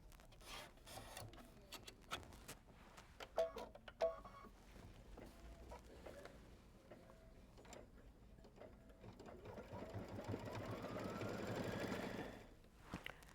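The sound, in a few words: embroidery machine sewing in hoop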